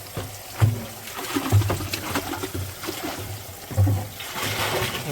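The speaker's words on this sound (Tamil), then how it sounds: "இப்போ இதில் மிக்ஸ் பண்ண போகிறோம் ட்ரம்மில்." Liquid sloshing and splashing as it is stirred and mixed in a drum on a banana farm, with irregular swishes and gurgles close by and no talk.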